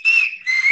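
A person whistles two short, clear, high notes close by, the second slightly lower, with a brief gap between them and no talk.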